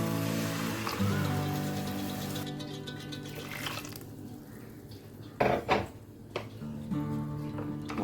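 A chickpea curry with tomatoes and ground coconut is mixed in a pot, with clinking and scraping of a metal spoon against the pot and a few louder knocks, under a background hum.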